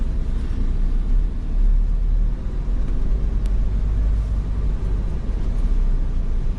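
Car driven along a road with the front tyre on the white line, a steady loud low rumble of engine and tyre noise heard from inside the cabin, with no talking.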